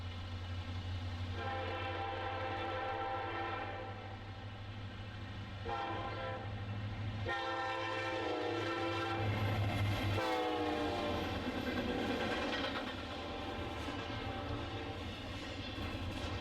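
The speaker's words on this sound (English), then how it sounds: "a westbound intermodal enters the double-track territory that now extends all the way through to Elkhart" Westbound Norfolk Southern intermodal freight train on double-track main line near Elkhart, a steady rumbling roll of wagons passing close by with horn blasts and rising screeching wheel tones, no voices.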